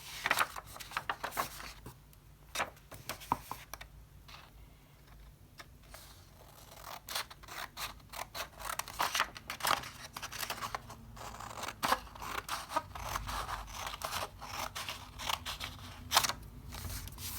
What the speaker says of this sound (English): I'm going to grab my scissors and I'm going to cut off this extra rectangle over here, right along that edge